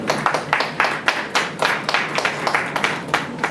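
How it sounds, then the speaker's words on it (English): A round of applause from attendees at a community action board meeting, a steady patter of many hands clapping at moderate volume for a few seconds, with no speech over it. "round of applause"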